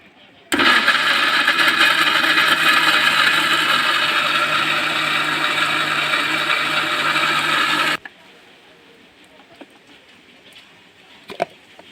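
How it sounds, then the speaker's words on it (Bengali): Mixer grinder blending ripe mango into a thick paste, a loud steady whirring motor run of about seven seconds that cuts off abruptly, followed by quiet room sounds. "দেখুন মিক্সচার মেশিনটা আমি রেডি করে নিয়েছি, এখন বসিয়ে পেস্ট করে নেব।"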